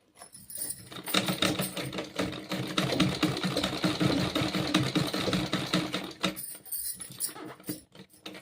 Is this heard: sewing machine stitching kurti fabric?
yes